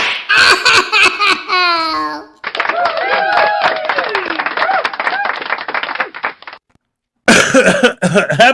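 A man coughing repeatedly during a lively talk show, rough bursts mixed with laughter and clapping, loud and close, with voices talking around it.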